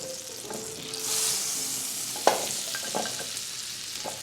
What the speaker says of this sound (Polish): No i kładziemy saltimboczkę. O, skwiercz, pięknie.